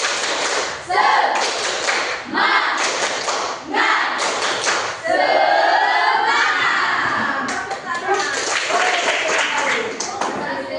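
Schoolchildren repeat the 'tepuk semangat' clapping chant, rapid rhythmic bursts of group clapping and thumping mixed with loud shouted chanting voices filling a classroom.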